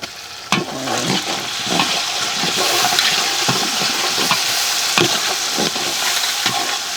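Tomatoes and green chillies sauté in a pan for biryani. A loud, continuous close-up sizzle and hiss carries on throughout, with occasional clatters and scrapes of stirring and no speech.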